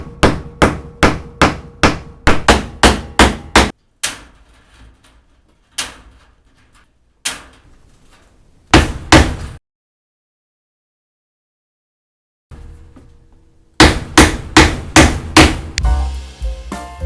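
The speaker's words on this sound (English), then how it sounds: "Got some poultry net staples, and I like to use a framing hammer with a waffle head so it doesn't slip off of these" A framing hammer with a waffle head drives poultry net staples. Loud sharp strikes come in quick rhythmic runs, separated by a few single blows and a stretch of silence, before another fast burst of hits.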